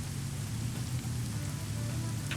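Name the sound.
rain falling in a video game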